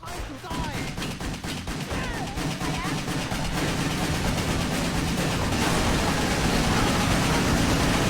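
Dense, rapid-fire video game gunfire, loud and continuous, with overlapping shots blurring into a steady roar.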